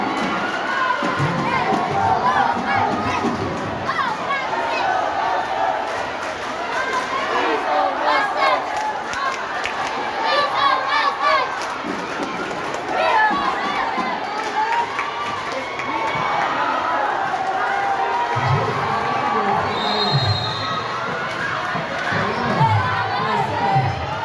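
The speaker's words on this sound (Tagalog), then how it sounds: "Grabe na kabigo ang crowd sa Valencia o Misamis Oriental." Loud crowd at a tense volleyball match between Valencia City and Misamis Oriental, tied at 24 all in the fourth set, cheering and shouting continuously with surging roars and excited voices throughout.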